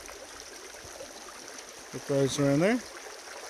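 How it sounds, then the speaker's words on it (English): A creek runs over a gravel bar at an inside bend, a steady soft wash of flowing water throughout; someone speaks briefly near the end over it. "so I'm just in this part of the creek"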